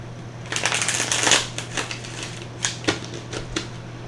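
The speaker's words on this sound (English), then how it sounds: "Give me one more shuffle." A tarot card deck is shuffled by hand, a crisp riffle of cards for about a second, followed by a few separate card taps and snaps over a low steady hum.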